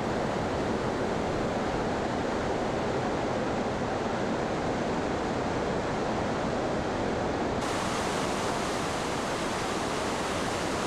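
Massive torrent of Victoria Falls water plunging into the Boiling Pot, a deep swirling gorge pool, giving a loud, dense, unbroken roar of falling and churning water with no voices.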